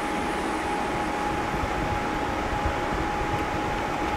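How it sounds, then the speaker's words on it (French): Steady, whooshing airflow from an EcoFlow WAVE 2 portable air conditioner blowing continuously, with a faint constant hum underneath and no voices. "ça souffle comme un gros ventilo ou une grosse clim"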